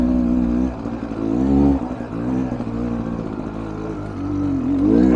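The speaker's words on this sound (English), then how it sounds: "Listen to that two-stroke lug down there" A Beta Xtrainer two-stroke dirt bike engine lugs at low revs on a slow uphill climb. Its loud, close, buzzing drone rises and dips steadily.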